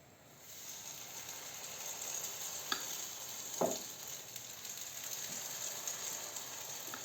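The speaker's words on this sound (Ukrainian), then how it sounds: "І так будемо смажити всі решту." Onion fritters frying in oil in a pan, a soft continuous sizzle with a couple of brief clinks and scrapes from a utensil, faint and close, no talk.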